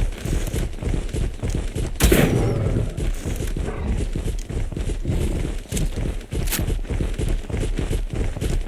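Gunfire in Ark: Survival Evolved, a dense, loud, continuous barrage of rapid cracks over a busy, steady game soundscape, with one heavier burst early on.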